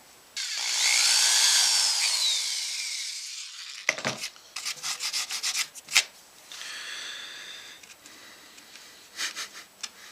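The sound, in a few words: drilling holes in wood fretboard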